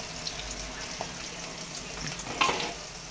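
Onion and green chilli stirred into hot oil with cinnamon and shahjeera for aloo tomato curry, giving a continuous crackling sizzle with a few spoon knocks and a louder scrape near the end.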